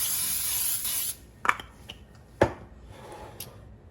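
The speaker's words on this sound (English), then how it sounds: "And I'm just going to spray the pan on good." A can of cooking spray hisses onto a pan for about a second, then a couple of sharp metallic clanks and light scraping follow.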